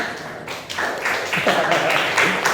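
Students in a physics classroom clap together in a short, moderately loud burst of close, uneven hand claps, with a teacher's voice speaking over them.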